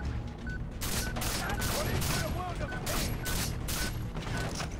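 Rapid bursts of gunfire in the video game Far Cry 3, a dense rattling volley of shots pulsing at regular intervals and loud throughout, with a voice talking faintly underneath.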